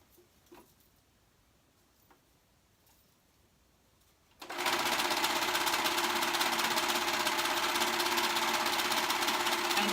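A sewing machine stitching a men's tee starts after a few quiet seconds, then runs at a steady, loud, continuous whir alone to the end.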